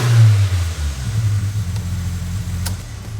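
A twin-charged Nissan engine with a new exhaust revs with a deep, throaty growl that swells and then settles toward idle, loud and close, with no talk.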